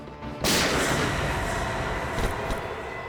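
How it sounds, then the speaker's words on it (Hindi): A gunshot in a CID crime drama scene: a sudden loud blast cracks out after a brief quiet moment, followed by a sustained, roaring noisy wash that fades slowly. "गोली चली क्या बस?"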